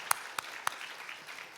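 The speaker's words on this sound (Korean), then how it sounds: "한번 박수로 환영하겠습니다." Church congregation applauding to welcome an elder: a few sharp, separate claps up front, then a faint, thin patter of clapping in a quiet room.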